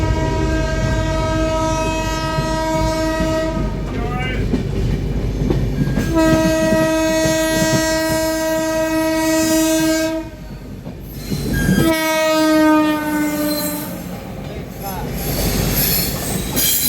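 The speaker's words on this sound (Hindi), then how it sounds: "ट्रेन" A passenger train on the Lokmanya Tilak Terminus–Prayagraj route via Jabalpur passes close by, its loud horn blaring in several long sustained blasts over the steady roar and rumble of wheels and carriages.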